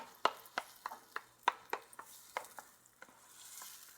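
Whole canned tomatoes being broken up with a wooden paddle in a pot, giving a run of soft wet squelching thuds every fraction of a second over a faint simmer, close and fairly quiet.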